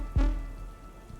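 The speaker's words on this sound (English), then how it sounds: "the rain and thunder had intensified to abnormal levels" Heavy rain and thunder sound effect: a sudden loud burst right at the start, then a dense hiss of rain that slowly fades over about a second.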